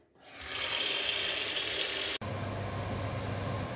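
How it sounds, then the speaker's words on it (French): Snow peas are rinsed under a running kitchen tap, a steady close rush of water that drops in tone abruptly midway as the flow hits the peas differently. "je vais continuer à les laver et les égoutter"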